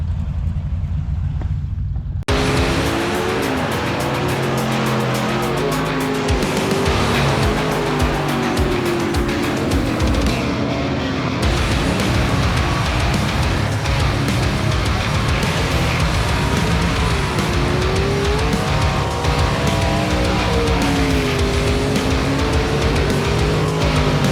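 A hot rod race car named Sally runs a hot lap at South Texas Race Ranch, its engine a loud, continuous roar that rises and falls in pitch as it goes around the dirt track.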